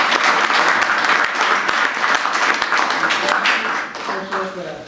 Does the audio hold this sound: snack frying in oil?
no